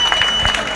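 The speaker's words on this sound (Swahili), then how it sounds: "Simuongezee makofi zaidi ya hayo jameni" A crowd at a public health event in Makueni applauds in a short continuous burst, moderately loud, with a voice mixed in.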